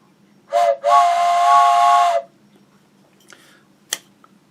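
A train steam whistle gives a short toot and then one long, loud, steady blast, followed by quiet with a couple of faint clicks.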